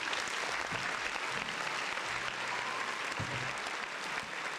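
A crowd applauds steadily, dense clapping that holds at an even level throughout without anyone speaking.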